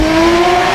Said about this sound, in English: Oh, the upshift in the tunnel. That is insane.